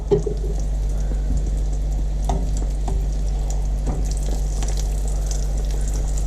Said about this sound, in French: là j'ai fait tous mes petits pains et je suis en train de les frire là